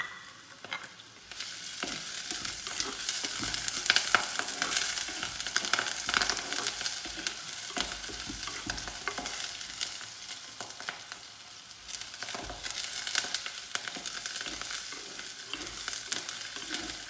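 Curry leaves and green chillies fry and sizzle in a hot pan for a cauliflower coconut milk gravy, with a steady crackling hiss and occasional stirring scrapes throughout, no talking.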